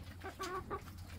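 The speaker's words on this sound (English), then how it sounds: "bunch of happy chickens" A few short clucks from farm chickens, soft and close together, over a quiet steady background hum.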